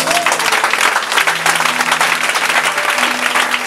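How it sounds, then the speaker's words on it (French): Church congregation applauding during a sermon, steady dense clapping throughout, loud and close, with a faint sustained tone underneath. "Tu peux acclamer ça."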